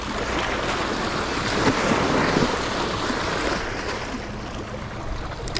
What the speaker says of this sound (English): This current is just ripping through here.